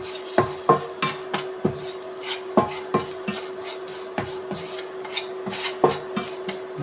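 Spoon scraping and stirring coriander powder, chilli powder and salt in a pan for a spicy mackerel curry, with repeated sharp metallic clinks at an irregular rhythm over a faint steady sizzle, close and clear.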